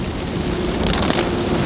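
Rain falling steadily around a lakeside spot near Kentucky Lake, a continuous broadband hiss with soft pattering, fairly close and unbroken, with no voices.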